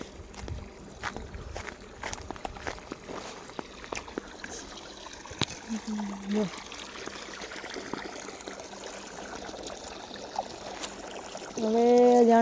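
Water flows along a farm irrigation channel in a village field, a faint, soft trickle under quiet outdoor background sounds with brief clicks and a voice near the end.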